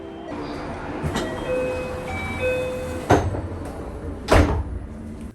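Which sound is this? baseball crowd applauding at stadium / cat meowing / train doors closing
train doors closing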